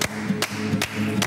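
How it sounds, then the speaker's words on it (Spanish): Rhythmic hand clapping keeps time along to a song, four sharp, close claps evenly spaced roughly every 0.4 seconds over a steady sung melody. "Ayuda con la palmita"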